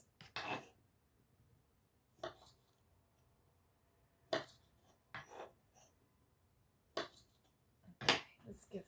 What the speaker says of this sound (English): let's give that another stir